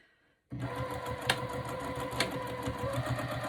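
A Juki 2010Q sewing machine runs a steady half-inch seam on a T-shirt tote bag, starting abruptly after a brief quiet and then whirring continuously at a fast, even rhythm with a couple of louder clicks.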